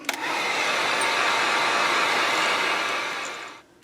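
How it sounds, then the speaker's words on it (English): A steady, loud heat gun whirs continuously for a few seconds close by, drying the coating on a shad wakebait fishing lure, then cuts off. "now we need to get the heat gun or hair dryer or whatever and dry this really well"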